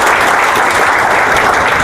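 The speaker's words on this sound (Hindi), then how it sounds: "आप तालियां नहीं लगाएंगे इसके लिए?" Loud, close applause from a large audience, a dense burst of many hands clapping continuously over a short span.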